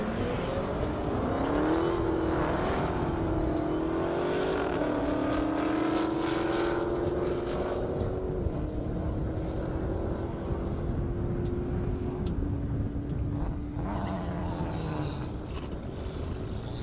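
Race cars at a half-mile airstrip drag race in Indiana roar continuously at a distance, one engine rising in pitch through the gears before easing off while another carries on underneath.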